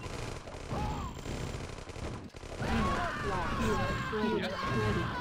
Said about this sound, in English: That grenadier just exploded.